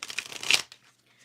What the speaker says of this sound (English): So let me do some shuffling.